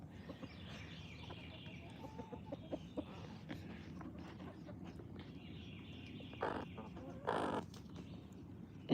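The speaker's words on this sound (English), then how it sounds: "I got a pasture full of cows and chicken coop full of chickens" Chickens in a chicken coop, with scattered soft clucks and a couple of louder squawks near the end, over a steady low background murmur.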